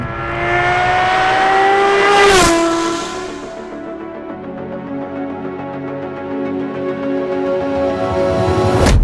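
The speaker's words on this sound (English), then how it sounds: "You certainly get that noise that you would get from a 599XX" The Talos XXT, a road-going supercar based on the Ferrari 599XX, accelerates hard with a loud, close engine scream rising in pitch through the gears, with sharp shifts and a second surge at the end.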